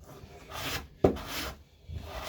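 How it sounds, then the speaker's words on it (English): Wood is shaved down on a guitar neck to an even thickness, heard as a few close rasping strokes with one sharper scrape in the middle. "try and get it a nice even thickness. Just keep shaving away at it."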